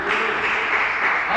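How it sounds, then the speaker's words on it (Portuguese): Applause from a church congregation during a sermon, a steady wash of clapping filling the space at a constant level for the short stretch, with no voices standing out. "Você pode dar uma salva de palmas de luz?"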